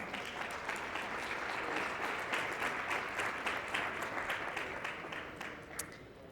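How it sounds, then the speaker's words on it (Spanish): An audience claps steadily for several seconds, a dense wash of hand claps that holds even and fades a little toward the end. "Un fuerte aplauso para María."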